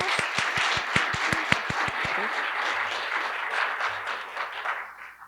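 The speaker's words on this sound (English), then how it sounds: "If you all would join me in giving them a round of applause" Applause for guests at a fireside chat, opening with a few distinct loud claps near the front before spreading into a softer, steady ripple of audience clapping that fades toward the end.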